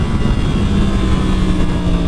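A 1000cc motorcycle engine roars through a quick full-throttle pull, a loud, dense, continuous drone with a steady rising tone and heavy wind rush, no voices over it.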